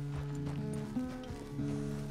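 Horse hooves clip-clop steadily at a walking pace while riding in Red Dead Redemption 2 at Pronghorn Ranch, close and moderately loud over low game ambience and music.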